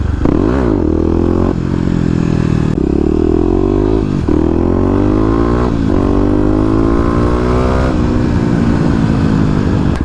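A 2018 Kawasaki KLX250 dual-sport motorcycle revs hard and loud up close, its engine note sweeping up and down through several throttle blips over a steady idle.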